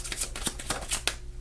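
Tarot cards being shuffled close up, a quick burst of riffling flicks and papery slaps that fades out after a second or so, with no talking.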